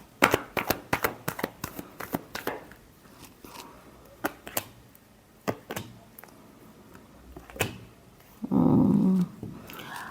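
Tarot cards being shuffled by hand, a run of quick papery riffles and taps spaced irregularly, close and fairly quiet, ending in a louder, denser shuffle burst.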